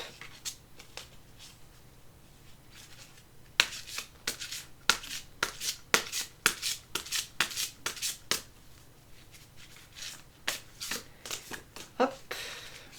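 Tarot cards being shuffled for a one-card reading, a quiet series of crisp riffling snaps and soft slides, irregular bursts close to the microphone over several seconds.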